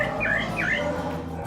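A pale-breasted thrush (sabiá-barranco) gives two quick rising chirps, clear and fairly close, over a steady low background hum.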